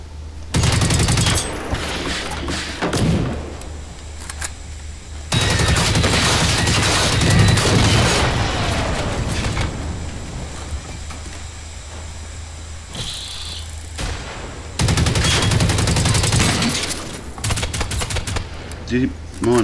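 Bursts of automatic gunfire in the video game Generation Zero, loud volleys separated by quieter stretches with a steady engine-like rumble beneath.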